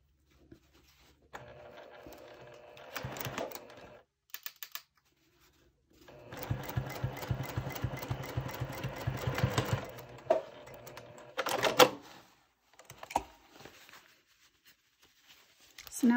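A home sewing machine stitches a trouser crotch seam in short bursts, its rapid needle chatter starting and stopping between quiet pauses, close and clear.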